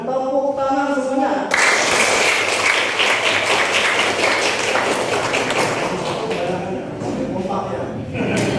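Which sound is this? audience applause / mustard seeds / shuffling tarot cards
audience applause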